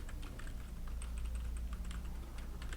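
Keys click on a computer keyboard, one of them the Enter key. A quick run of light, distinct taps sits over a faint low background hum, with no voices.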